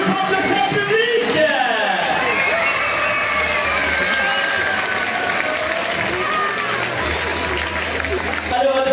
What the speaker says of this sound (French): je voudrais qu'on fasse un tonnerre d'applaudissements pour les jeunes ce soir